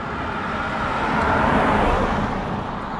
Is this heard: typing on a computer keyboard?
no